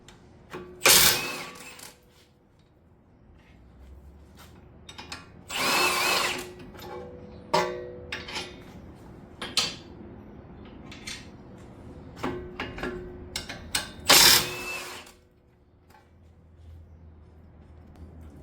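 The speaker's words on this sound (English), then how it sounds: "Now ready to take the axle nut off. And the lower strut bolts." Removing the axle nut and lower strut bolts on a 2006 Honda CR-V, with several loud bursts from a power tool, likely an impact wrench, separated by quieter clinks and shop noise.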